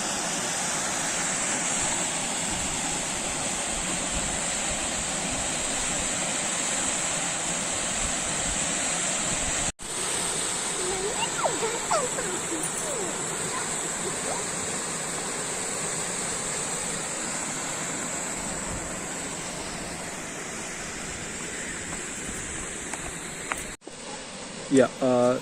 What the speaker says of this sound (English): this is Girmal waterfall, which is part of Purna Wildlife Sanctuary